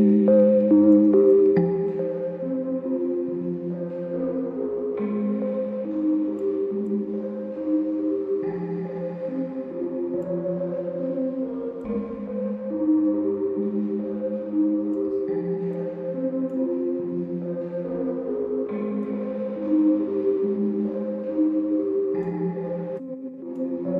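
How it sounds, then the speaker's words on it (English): Dark ambient pad built with the Ambience reverb plugin, sustained layered tones shifting slowly under a wide wash of reverb, steady and moderately loud throughout. "it's really good to create some dark sounds that have a lot of ambience to them"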